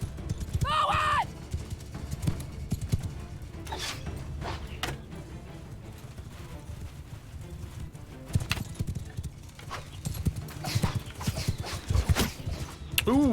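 Horse archers' horses galloping across a Mount and Blade Bannerlord battlefield, repeated hoofbeat clip-clops near and far with a neigh early on, mixed with battle noise and a commander's shouts.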